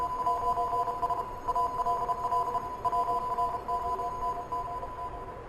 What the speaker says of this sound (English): what sounds like a Morse code can be heard from it